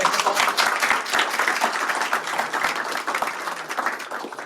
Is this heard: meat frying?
no